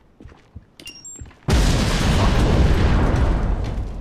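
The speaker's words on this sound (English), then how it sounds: "Command, explosions in my vicinity." An explosion in the Hitman: Absolution video game erupts suddenly after a few faint clicks and thuds, a loud broadband blast that rumbles and decays over several seconds.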